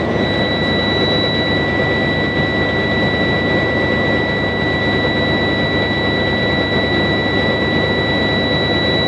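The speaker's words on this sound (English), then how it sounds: "So now I'm bringing the idle up with the cruise control, and it'll actually hold it." Truck engine held at raised idle by cruise control during an in-cab inspection, a loud, constant droning roar with two steady high whining tones above it and no change in level throughout.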